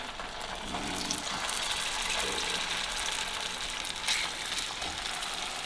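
Tofu pieces pan frying in hot cooking oil, a steady, dense sizzle and crackle held close at an even level throughout, with no voices.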